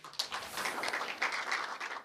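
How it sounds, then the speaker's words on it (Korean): An audience at a public science forum applauds to welcome the next presenter, a soft, fairly distant wash of clapping that stays even throughout. "큰 박수로 맞이하겠습니다"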